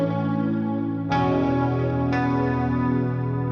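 Sustained, effect-laden electric guitar chords blend with electric piano tones, rich and reverberant, with two new chords struck in a slow sequence.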